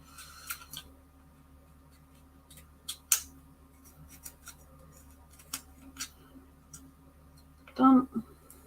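Small scissors cut through material in scattered quick snips and clicks, close and fairly quiet, with a louder burst of handling noise near the end.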